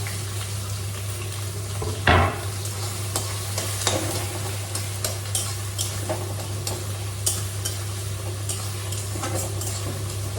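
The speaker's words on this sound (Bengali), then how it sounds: "তেলটা খুব সুন্দর গরম হয়ে গেছে, জিরাটাও লাল হয়ে গেছে, দিয়ে দিচ্ছি তার মধ্যে কুচনো পেঁয়াজ আর আদা" Chopped onion and ginger frying in hot oil with reddened cumin in a home kitchen, a continuous crackling sizzle with scattered sharp pops and a spatula scrape, over a steady low hum, no voices.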